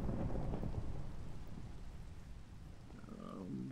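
Heavy rain and thunderstorm rumble in Pixelmon, the Minecraft mod, a dense steady downpour with low thunder strongest at the start and a brief tonal game sound near the end.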